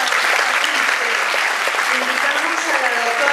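Applause from an audience at a university ceremony marking fifty years of agrarian reform, a steady dense clapping that fills the whole stretch at close range, with some murmuring voices mixed in beneath it.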